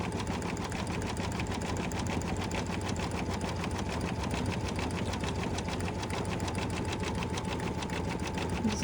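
A sewing machine runs continuously at a fast, even rhythm along the quilted edge of a mug rug, a loud close mechanical chatter that never pauses.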